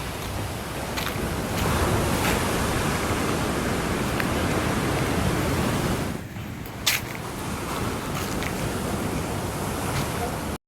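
Wind buffets steadily over the roar of sea waves washing ashore at a Thalassery viewpoint at sunset, a continuous broad rush with a brief dip and a few gusty thumps, faint voices beneath.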